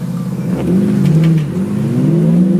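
A car engine in the Need for Speed video game revs loudly and close, its whining pitch climbing in a steady acceleration with a brief dip before rising again, with no speech over it.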